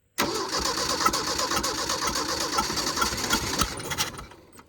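An abandoned Mercury Capri Turbo engine cranks briefly, then catches and runs roughly at a fast idle before cutting off near the end.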